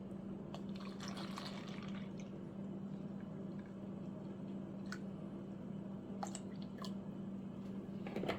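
Milk being poured into a pot for curry, a soft continuous liquid pour with faint splashes and drips, quiet and close, over a low steady background hum.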